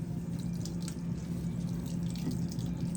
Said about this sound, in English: I'm just gonna use the twisting motion as a way to help force out that water